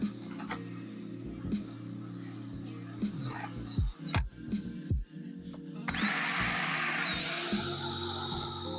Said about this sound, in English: This drill makes quick work of this.